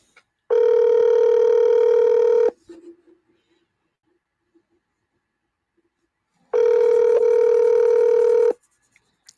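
Phone ringback tone heard over a live call: two long, loud electronic ring bursts of about two seconds each, separated by a quiet gap, with no voices.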